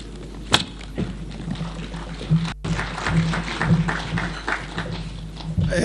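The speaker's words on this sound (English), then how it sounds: "Another round of applause for our Governor, Waiguru." A gathering at a church service gives a round of applause for Governor Waiguru after her Bible reading, a steady crowd clapping that swells and continues throughout.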